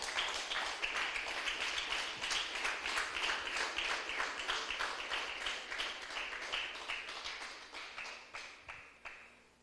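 Church congregation clapping in a strong steady rhythm, many hands beating together in unison, gradually fading and thinning toward the end.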